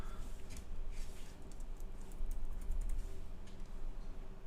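A computer keyboard typed on in a steady run of soft clicks over a few seconds, quiet and close against a faint background hum.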